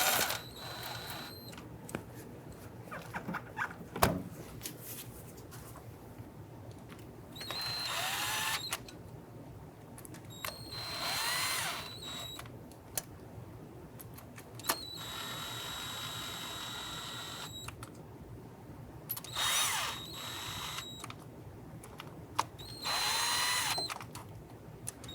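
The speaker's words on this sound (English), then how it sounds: "Now I'm just going to run these bolts down just until they bottom out." A power driver runs bolts down on a 3.8L V6 Ford Mustang (1994–2004) during a fuel injector replacement. It gives five short whirring bursts separated by quiet pauses, with faint clinks of tools between them.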